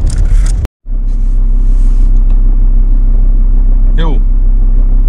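Steady loud engine rumble and road noise inside a Dacia Logan while driving, with a brief dropout near the start and a short faint squeak later.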